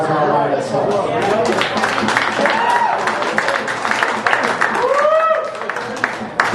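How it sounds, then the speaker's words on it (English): An audience at a pub retirement roast applauds with steady, dense clapping that lasts throughout, while voices and cheers rise over the noise. "that's worth a round of applause all by itself."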